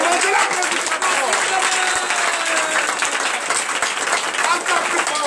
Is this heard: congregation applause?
yes